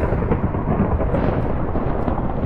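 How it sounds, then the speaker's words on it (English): Thunder in the Minecraft ForbiddenCraft modpack, a continuous heavy low rumble with a dense rain-like wash throughout, loud and steady with no talking. "that is a lot of thunder"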